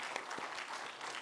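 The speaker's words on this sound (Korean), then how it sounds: "한번 뜨겁게 박수 치겠습니다." A church congregation bursts into warm applause after lay ministers are commissioned during a Sunday service, dense steady clapping filling the hall without pause for a moment.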